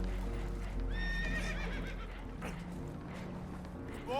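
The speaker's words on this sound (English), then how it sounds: "Horses are spooked, and we're taking on water." In the video game Red Dead Redemption, spooked horses aboard a boat taking on water let out a sharp whinny, with hooves clopping and shuffling beneath. A second neigh rises near the end.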